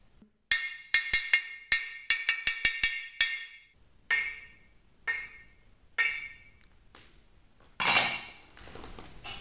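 A metal pot lid is tapped as a drum, giving sharp, bright clinks in a quick irregular rhythm, then slower single hits that ring briefly, close and clear with nobody talking.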